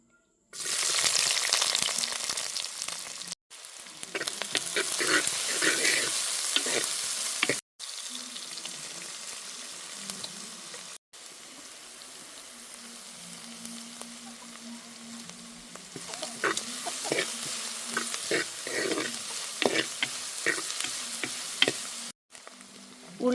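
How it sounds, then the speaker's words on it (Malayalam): Onions frying in coconut oil in a hot pan, a loud, dense crackling sizzle that stops and restarts several times with stirring and a few pan knocks. "ഉള്ളിയെല്ലാം അതിൽ വെച്ചിട്ടുണ്ട്"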